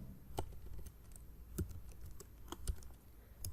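Code is typed on a computer keyboard in quiet, scattered key clicks with a few sharper taps at irregular intervals, faint and close against a soft background hum.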